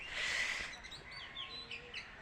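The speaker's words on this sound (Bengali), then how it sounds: "পাখিদের আওয়াজ।" Birds chirp around a small rural house by two ponds and many trees. Short, scattered chirps and tweets come from a moderate distance after an opening burst of broadband noise.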